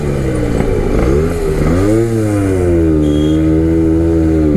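A Suzuki Max 100 motorcycle engine revs up and down on a short ride, loud and close, its pitch rising and falling through several swells before settling into a steady drone.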